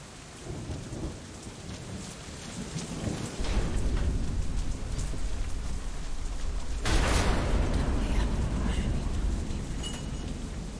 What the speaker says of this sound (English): Damn storm.